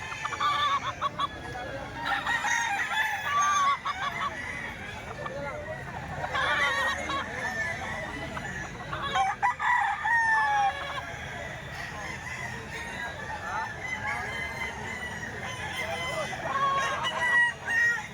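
Several gamecocks crow and cluck repeatedly at a busy outdoor gamecock market, with crowing from nearby and farther off, while people talk and haggle throughout.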